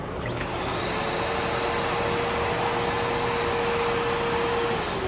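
A Cirrus CR69 Prolux Titan upright vacuum cleaner with a broken belt, running continuously with a loud, steady motor whine and rushing airflow from start to finish.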